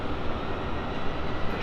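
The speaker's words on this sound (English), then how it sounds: "There's a train leaving over there" A train pulls out of Farnborough Main station on the South Western Main Line, heard as a continuous low rumble and wheel roar at moderate distance, with no voices.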